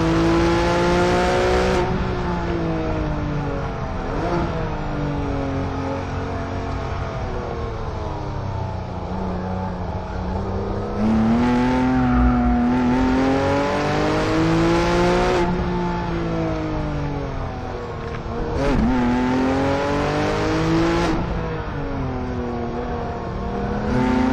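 A Porsche 911 GT3 engine revs repeatedly, rising and falling in long sweeping pulls with a loud, harmonic-rich howl close by, several climbs in succession with brief drops between.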